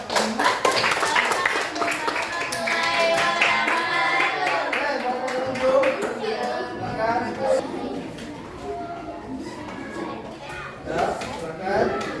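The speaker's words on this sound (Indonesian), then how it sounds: "Tepuk tangan semuanya" A classroom group of children claps along in a ragged burst of hand claps, mixed with lively young voices chattering and calling out over the clapping.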